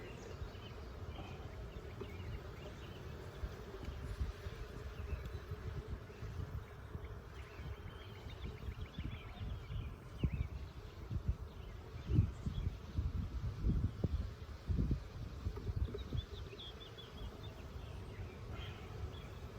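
Honeybees buzzing around an open hive during a frame inspection, a dense, steady low drone close by with individual bees flying past and occasional soft handling bumps.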